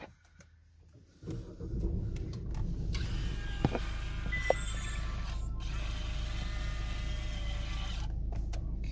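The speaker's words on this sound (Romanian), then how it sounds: "Acum mai merge mașină și voi porni motorul" A car engine cranks and starts, then idles steadily at close range with a constant low hum, a brief mechanical whir and a couple of small clicks marking the start.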